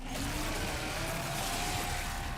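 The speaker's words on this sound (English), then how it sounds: "This chainsaw has a 14-inch blade with that signature meaty yet intimate sound, and when it revs, you can hear all the gnarly details." A chainsaw with a 14-inch blade from the video game Gears of War: E-Day revs close and loud in a sustained, gritty engine roar. Its pitch climbs steadily, and nothing else is heard.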